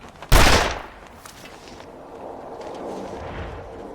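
A single loud rifle shot cracks out in The Long Dark while hunting ptarmigan in a snowy wilderness, followed by a long rolling echo that fades into quiet wind.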